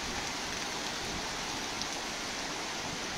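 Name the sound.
heavy rain falling in Sylhet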